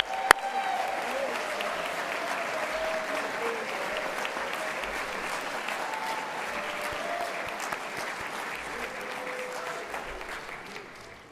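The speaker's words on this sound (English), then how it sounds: "thanking them and applauding them for playing so well" An audience at the Scottish Open Championships applauds the soloists with a steady, moderately distant wash of clapping that holds for about ten seconds before tapering off, with a faint voice or tone drifting through.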